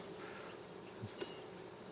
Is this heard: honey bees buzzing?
yes